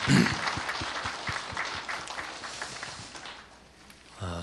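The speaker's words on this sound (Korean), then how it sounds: "박수하겠습니다" Church congregation applauding after a hymn, dense clapping that starts loud and gradually thins and fades over a few seconds before a voice begins at the end.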